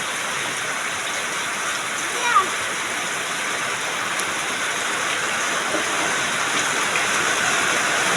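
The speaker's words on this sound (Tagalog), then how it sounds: "Lakas. Lalo lumakas yung ulan." Heavy rain pours down in Bagong Silangan, Quezon City, in a steady, dense roar that stays loud and even throughout, with a brief splash partway through.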